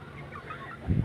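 Chickens calling nearby, a short gobbling cluck that swells louder at the end, with faint background noise and no talking.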